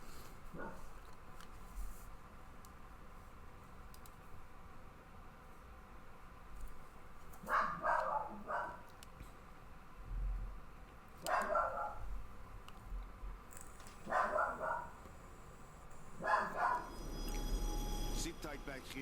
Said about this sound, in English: My dogs are going a little crazy right now.